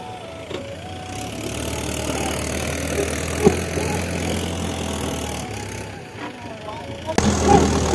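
A tractor hauling a full load of earth on a farm, its engine running steadily at a low idle-like rumble for several seconds, with occasional knocks and clatter and a louder surge at the end.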